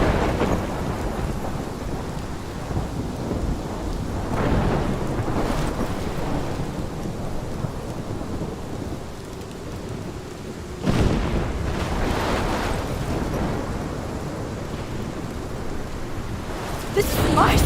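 Thunderstorm in the Life Is Strange video game, with steady heavy rain noise throughout and rumbling thunder swelling in deep rolling surges.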